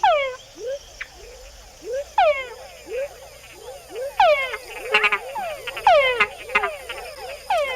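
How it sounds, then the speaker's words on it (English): A male rainforest frog in Panama calls repeatedly in a close, loud series of rising whines, some followed by short chuck notes, with a second frog and faint insect chirps in the background. "Male frogs make the added chuck sound to attract females."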